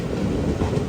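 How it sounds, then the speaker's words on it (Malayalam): Heard from aboard the Palaruvi Express as it pulls into Vaikom Road station, a dense, steady rumble of rolling carriages fills a brief moment with faint wheel clatter. "വൈക്കം റോഡ് റെയിൽവേ സ്റ്റേഷനിലേക്ക് ഇതാ നമ്മുടെ ട്രെയിൻ എത്തിക്കൊണ്ടിരിക്കുകയാണ്"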